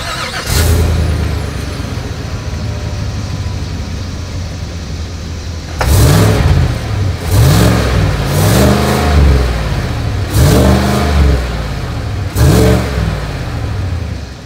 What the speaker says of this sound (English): Even though we're in an SUV, as always, here is that exhaust clip.